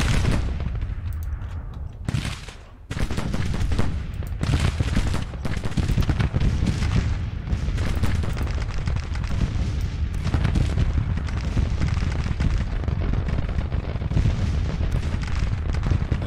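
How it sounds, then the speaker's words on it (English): Civil War artillery batteries boom repeatedly in Grand Tactician: The Civil War, a dense, continuous roar of cannon fire and rumbling blasts with a brief lull early on, loud throughout. "his batteries just did a number on me, I guess. These guys are... Oh, now they're firing."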